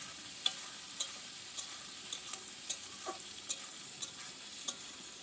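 Masoor dal and vegetables stir-fried in a pan for a Bengali banana-flower mochar ghonto, with a soft continuous sizzle and a series of light, evenly spaced scraping clicks of a spatula.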